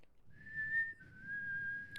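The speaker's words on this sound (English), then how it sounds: "You say demonstrate now. Are you a good whistler?" One person whistles a clear sustained note that dips slightly in pitch partway through, close and alone in a quiet room with faint background hum.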